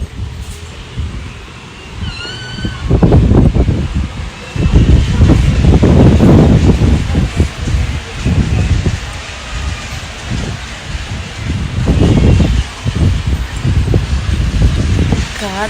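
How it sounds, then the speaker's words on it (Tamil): Strong wind gusts roar and rustle through trees in surging waves, loud and close, with a brief faint chirp early on. "காற்று எப்படி அடிக்கிறது"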